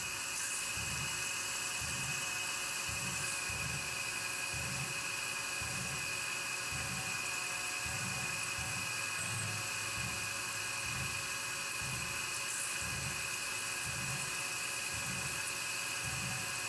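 Drill bit peck-drilling a timascus knife part on a machine, a steady high machine whine with a rapid, regular pulsing rhythm from short pecks that break the chip, continuous and close throughout.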